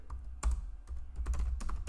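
Close typing on a computer keyboard, a quick irregular run of sharp key clicks and taps at moderate volume with no talking.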